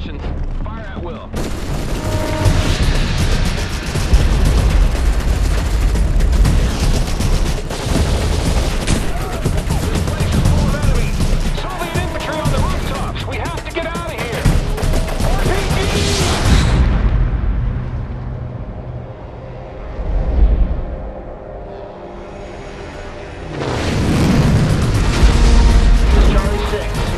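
Dense gunfire and heavy explosions roar through a World in Conflict battle, with rapid machine-gun bursts and booming blasts for a long stretch, a quieter dip, then another loud surge, with voices speaking over the combat.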